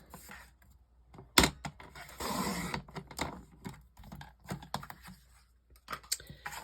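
Paper being trimmed to size on a craft cutter, heard as a string of short close clicks and slides, with one sharp snap and a brief scraping stretch, then scattered ticks; no voices.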